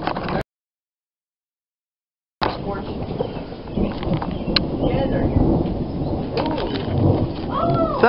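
A deep rolling rumble of thunder over heavy rain, loud and sustained after a brief silence, with faint chirps near the end.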